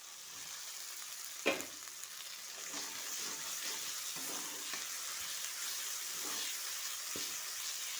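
Spices and tomato fry in oil with a steady, soft sizzle while being stirred, broken by a sharp utensil clack and a few light scrapes.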